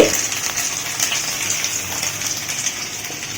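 Banana flower (mocha) fritters frying in hot oil, a continuous close hiss and bubbling with light crackles, steady and fairly loud throughout.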